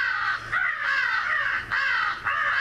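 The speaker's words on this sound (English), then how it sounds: "Definitely have to be putting these crow sounds to use here soon." Several crows caw in repeated harsh calls, overlapping bursts close together with brief gaps, loud and near with no talking.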